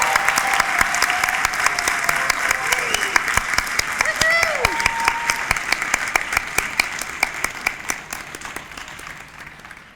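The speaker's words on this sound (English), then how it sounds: "please join me in giving a big round of applause to all of our" An audience at a graduation-style achievement celebration breaks into sustained applause for graduating students, dense clapping with a few cheers and whistles, gradually fading toward the end.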